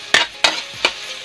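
Hotdogs being stirred as they fry in a pan, three sharp scraping strokes a few tenths of a second apart over a steady close sizzle.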